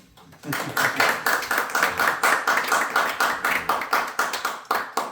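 A group claps together in a steady, rhythmic beat, each clap sharp and evenly spaced, continuing for several seconds.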